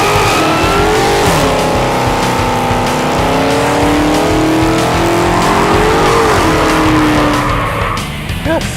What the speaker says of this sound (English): send off this poor 2015 Charger with an epic set of burnouts